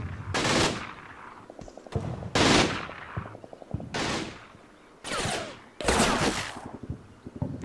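Bursts of gunfire in the World War II game Combat Mission Rome to Victory crackle in repeated rapid volleys of machine-gun rattle with sharp single shots between, fairly close and loud, separated by brief quieter gaps.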